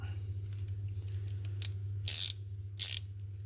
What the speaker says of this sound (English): a lockable swivel head ratcheting screwdriver